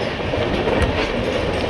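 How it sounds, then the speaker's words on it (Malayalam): Superfast express 22659, a Thiruvananthapuram North to Rishikesh sleeper service, pulls into Kannur railway station with a loud, steady rumble and rhythmic wheel clatter on the rails. No voices are heard. "ട്രെയിൻ ഇതാ കണ്ണൂർ റെയിൽവേ സ്റ്റേഷനിലേക്ക് എത്തിക്കൊണ്ടിരിക്കുകയാണ്"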